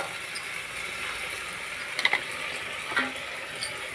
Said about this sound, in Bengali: শাকটা একটু সেদ্ধ হবে।